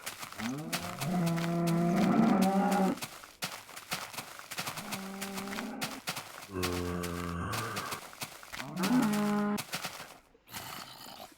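Minecraft cows moo repeatedly, with several long, drawn-out lowing calls that overlap and alternate at close range, over a light background of game clatter.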